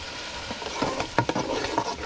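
Guinea pig pieces brown in a pan with blended cilantro for seco de cuy, a soft sizzle with scraping stirs and light knocks close by, growing busier toward the end.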